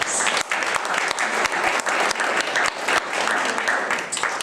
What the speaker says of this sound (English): Let's give the Creator a great big round of applause for our lives.